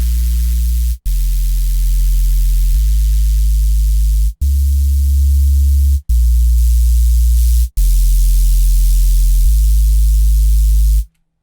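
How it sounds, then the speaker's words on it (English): A noisy synth sub bass for future riddim production holds a deep, loud tone that steps between pitches in several sustained notes with short cuts between them, each note carrying a hissy noise layer, with no talking. "So now I have a nice, clean, and still noisy sub."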